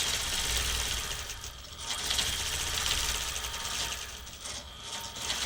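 A sewing machine runs steadily while stitching appliqué guided by a template, giving a close, constant mechanical whir with light rhythmic clatter.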